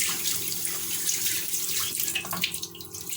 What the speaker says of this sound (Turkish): Şimdi salçalı sosumu dökeceğim içerisine.